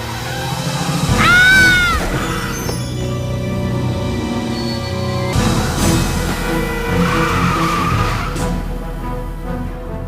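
Sports car in Broken Sword: The Sleeping Dragon, set in Paris, skidding past with loud tire squeals and engine roar, a sharp screech early on and a second skid later amid game ambience.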